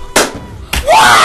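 A grenade blows up in the shooter game Black Ops 2, two loud broadband bursts with a short gap between them. A shrill whistling tail rises after the second, and no voices are heard.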